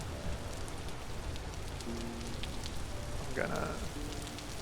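Steady rainfall in the game Vintage Story, a dense even hiss of drops across the whole stretch, with a few faint tonal chirps and a brief swoop of ambient sound near the end.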